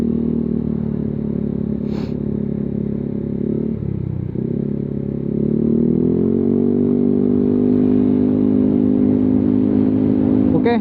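A Yamaha Aerox 155 scooter fitted with a Proliner Neo Silent exhaust idles steadily up close, with a brief dip around the middle before settling into a slightly fuller, louder running note.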